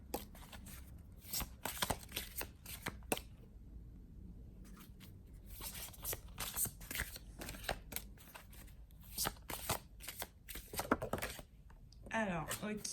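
Tarot cards are shuffled by hand in quick, close riffles and flicks, a steady run of crisp papery snaps with a voice speaking now and then.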